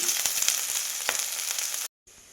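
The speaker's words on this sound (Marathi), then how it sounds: "फोडणीमध्ये ना मी ही चार पाच पानं टाकलेली आहेत आता कढीपत्त्याची" Curry leaves hit hot tempering oil in a pan with a bright, crackling sizzle that holds steady for about two seconds before cutting off abruptly.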